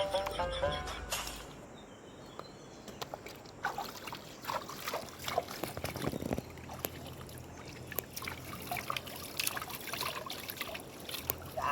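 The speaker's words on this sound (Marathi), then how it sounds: "गार गार पाण्यात चप्पल धुवायला पाहिजे." Cold water trickling and splashing while slippers are washed by hand, a soft steady dribble with intermittent sloshes and rubbing sounds, close and fairly quiet, with no talking.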